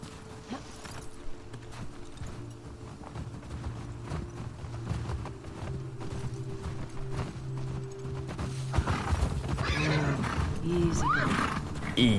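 Horse whinnying and hooves clip-clopping in The Last of Us Part 2, steady game ambience with the neigh rising near the end, heard under intermittent talk.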